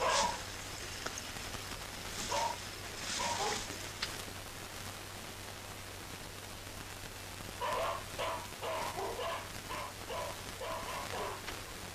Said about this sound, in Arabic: انت سامع اصوات الكلاب وانت عارف عقدتي من الكلاب